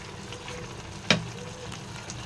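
Steady sizzling of soybean curry frying in a pan as ground roasted cumin and dried chilli spice is stirred in, with one sharp scrape or clink of a utensil partway through.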